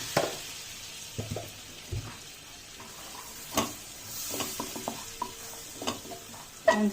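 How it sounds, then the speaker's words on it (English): Chicken meatball mixture with a spoon of flour frying in a pan, a soft continuous sizzle broken by light scrapes and taps of a spatula against the pan, close and unaccompanied by talk. "And fry it for some time."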